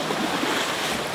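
A wild river rushing fast through rapids in Romania, heard as a loud, continuous broadband roar of churning water with wind buffeting the microphone, close and steady, no voices.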